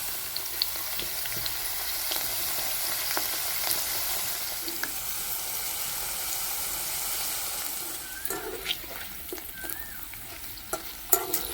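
Drumstick pieces fry in hot refined oil in an Odia-style kitchen, a steady close sizzle running throughout with scattered crackles and pops, livelier near the end, and no talk.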